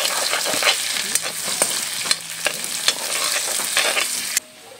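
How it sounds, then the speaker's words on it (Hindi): Onions fry in oil in a pan with a steady crackling sizzle, broken by repeated sharp scrapes and clicks of stirring before the sound drops off abruptly near the end. "अभी हम थोड़ा सा तेल डालेंगे, प्याज को आधा पकाएंगे"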